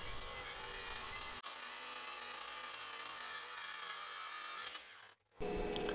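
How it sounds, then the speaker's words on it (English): A circular saw rips through an epoxy river slab with a loud continuous cutting roar, a brief dip early on, then a short pause before the blade bites again at full volume. "I'm just going to cut again with my circular saw and cut the slab into two different pieces"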